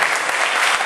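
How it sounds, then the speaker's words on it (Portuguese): A church congregation claps together during a sermon, a short burst of loud, dense applause close at hand that fills the space with no pause. "Isso merece um aplauso a Jesus."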